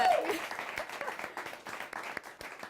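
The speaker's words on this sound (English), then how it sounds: "let's applaud for that" Audience applause following a talk about animals and a mystery box, steady dense clapping at moderate level throughout, with a brief voice near the start.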